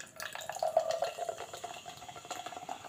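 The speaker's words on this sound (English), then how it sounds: "Let's pour it in the glass and see how we go." Green apple energy drink poured from a can into a glass, a close, steady splashing and trickling stream with light fizzing.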